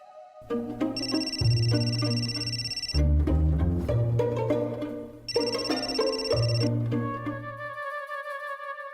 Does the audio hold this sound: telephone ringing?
yes